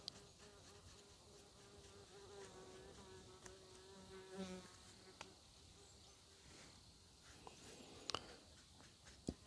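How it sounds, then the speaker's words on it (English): Many insects buzz continuously beside a lake outdoors, a faint, steady drone with occasional louder passes close by and brief soft clicks. "Being near a lake here, I've got lots of buzzing insects around me"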